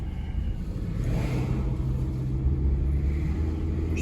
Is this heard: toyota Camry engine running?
yes